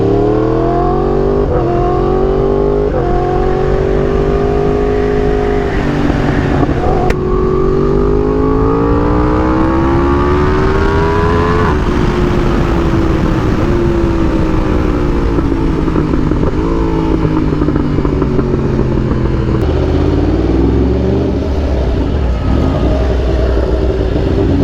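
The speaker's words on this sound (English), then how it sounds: "Oh, that's a nice Huracan." A Lamborghini Huracan's engine revs loudly and close, rising and falling through several sharp accelerations and gear changes as it drives past, with no speech.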